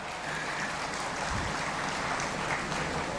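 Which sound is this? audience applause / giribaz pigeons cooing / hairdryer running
audience applause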